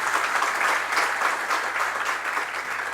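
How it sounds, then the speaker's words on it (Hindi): An audience at a Jain religious discourse bursts into steady, loud applause that fills the whole stretch with dense, continuous clapping. "अपने भाग्य की सराहना करते हुए एक बार जोरदार ताली फिर से बजाएं।"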